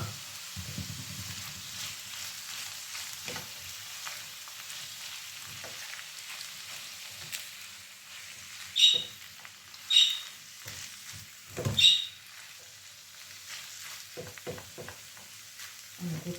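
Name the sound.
food frying and being stirred in a pan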